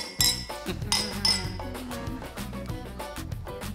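Glasses clink during a family toast, with a few bright, close chimes near the start that ring over soft background music and room noise.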